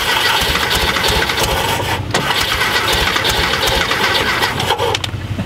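A VW Thing Type 181 that sat for 32 years cranks and runs, its engine loud and continuous at close range on a cold day, with a brief dip partway through.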